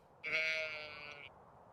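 A single sheep in Stardew Valley gives one short, clear bleat of about a second, close and fairly quiet, with no talk over it.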